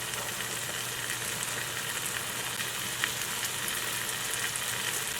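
Onions and scallions fry in a pot for curry, giving a steady, even sizzle that holds at a moderate level from start to finish.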